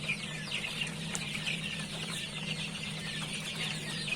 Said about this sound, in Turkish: Şimdi burada 20 günlüğü geçkin civcivlerimiz var.